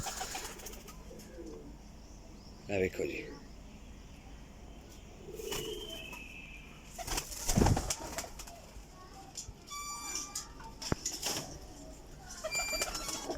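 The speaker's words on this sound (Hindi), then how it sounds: "लो जी माशाअल्लाह टैडी कबूतर" Teddy pigeons at a flying-pigeon loft give low coos, with a few wing flaps and sharp knocks scattered through, while someone speaks briefly near the end.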